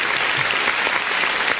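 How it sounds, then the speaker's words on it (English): Sustained clapping from a small audience, dense and close, continuing evenly throughout with a voice faintly beneath. "Get some claps for that."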